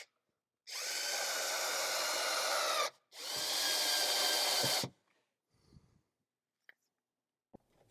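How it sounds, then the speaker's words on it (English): A power screwdriver drives screws to fix a switch and mount onto a bracket on a CFMoto UForce 600, two steady whirring runs up close followed by faint clicks and handling noises. "align the switch and mount to the bracket. Secure them down with a screwdriver."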